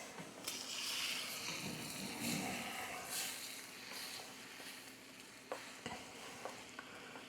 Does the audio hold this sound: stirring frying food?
yes